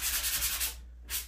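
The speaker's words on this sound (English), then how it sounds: "this is a sponge, sanding sponge." A sanding sponge rubs back and forth across a drywall wall in a walk-in closet, close rhythmic scratchy strokes with a short pause before a final pass.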